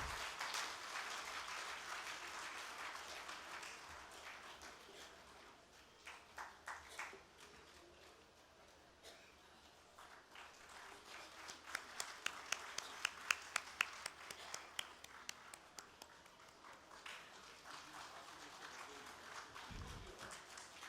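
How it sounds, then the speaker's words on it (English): Audience applause at the closing session of an international conference on resilient infrastructure: faint, distant clapping that swells at the start, thins out, then returns as a brief burst of sharper individual claps. "Everybody, please keep the applause coming."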